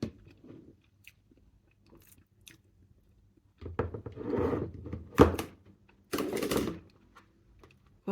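Someone chews homemade tofu at close range, with soft crunching and squishing bursts of biting and chewing separated by quiet pauses.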